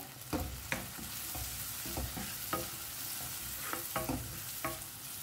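Turmeric powder being mixed into softened tomatoes in a pan for a Goan vegetable caldine, a soft continuous sizzle broken by repeated spoon scrapes and stirring knocks, fairly quiet with no talk.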